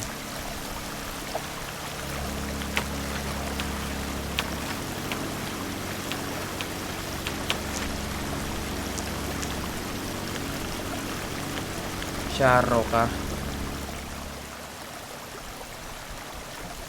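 Water at a flood control structure flows and churns steadily, a continuous rushing wash with a low rumble underneath, and a brief louder splash near the end. A few spoken words come in faintly.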